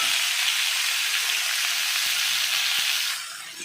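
Neem leaves and brinjal frying in hot oil give a loud, continuous close sizzle and crackle that eases slightly toward the end, with no voices.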